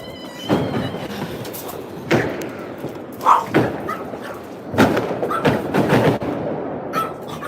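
Fireworks going off outdoors on New Year's Eve produce a series of irregularly spaced booms and thuds, some close and sharp, others duller, over a steady background hiss.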